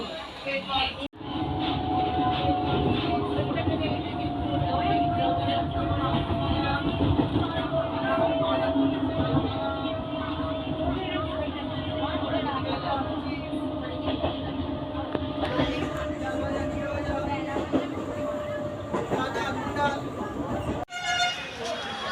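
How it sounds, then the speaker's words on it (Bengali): A Howrah–Tarakeswar local passenger train in West Bengal, India, rumbles steadily along the track for the whole stretch, with a sustained horn-like tone, a drop in noise midway, and voices talking over it. "Howrah two Tarakeswar up local ট্রেনে"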